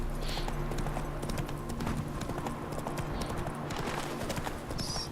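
Roach, the horse in The Witcher 3, gallops with a steady, loud clip-clop of hooves throughout, over continuous game ambience and a low background hum.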